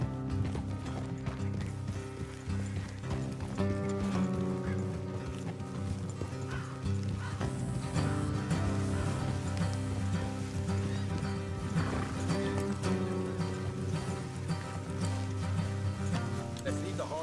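In Red Dead Redemption 2 on PS4, several horses gallop along a road with steady, rhythmic clip-clop hoofbeats and an occasional whinny, set against a continuous musical score and game ambience.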